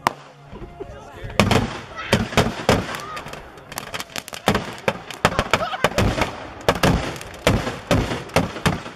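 A grand finale of backyard fireworks bursts in a rapid, irregular volley of sharp pops and thumping bangs, loud and close, while people talk over and between the blasts.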